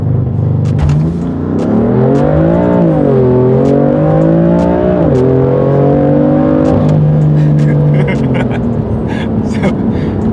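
A straight-piped BMW F80 M3 on launch control, heard from inside the cabin: a loud, sustained droning engine note that rises, dips and climbs again, with faint voices under it.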